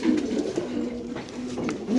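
Pigeons held in club cages coo in soft, repeated low calls that carry through a steady murmur of background noise.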